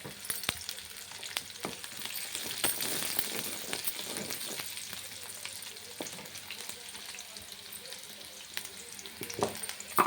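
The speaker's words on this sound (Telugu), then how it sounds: "ఉల్లిపాయ వేగుతా ఉందండి" Onions frying in a pan give a steady, close sizzle for the whole stretch, broken by occasional clinks of a utensil and a few sharper taps near the end, with no voices.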